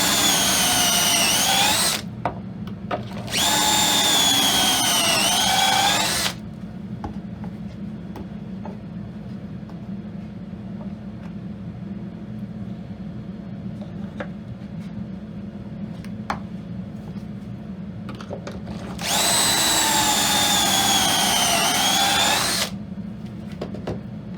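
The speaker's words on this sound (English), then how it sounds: "I'm going to drill the pockets in the two supports" A power drill whines loudly in three bursts of a few seconds each, drilling pocket holes in wooden table supports, with a steady low hum and occasional ticks in between.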